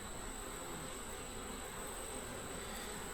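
Bees working beetles around Swiffer pads in a hive make a steady, close, continuous buzzing hum with no talk.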